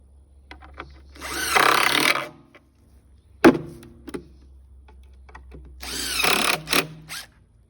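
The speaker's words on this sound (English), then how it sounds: "I'm going to fasten it down temporarily with a couple of these wood screws" Power drill driving wood screws into a log, two distinct loud whirring bursts separated by a pause, with clicks and small knocks between them.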